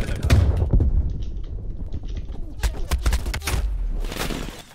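Rapid gunfire bursts and thumping impacts in a Call of Duty Cold War match, loud and dense, with a voice talking over the shooting.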